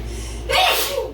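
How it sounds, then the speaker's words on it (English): A single close, loud human sneeze with a sharp gasping intake and burst of breath, heard alone in a quiet indoor room. "I'm about to sneeze again."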